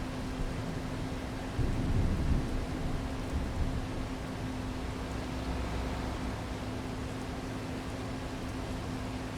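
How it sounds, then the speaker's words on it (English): Steady rain hisses continuously in Farming Simulator 25, with a low rumble of thunder swelling briefly near the start under a constant electrical hum. "Still raining, even though weather says it shouldn't be."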